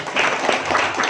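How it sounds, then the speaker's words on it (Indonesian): An audience claps at a community group visit event, a brief burst of dense, even applause heard fairly close, with voices faintly mixed in. "Tepuk tangan lah."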